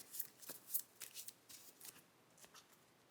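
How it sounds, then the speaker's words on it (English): A deck of trading cards for a Neos deck is riffled and shuffled by hand, producing a rhythmic series of about ten crisp, close papery flicks and snaps in quiet surroundings. "I shuffle the deck."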